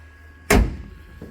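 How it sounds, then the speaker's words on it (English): A small aircraft's cabin stairs are pulled up from inside, ending in a single loud, close thunk as they seat, followed by a faint softer knock. "I'll pull the stairs up."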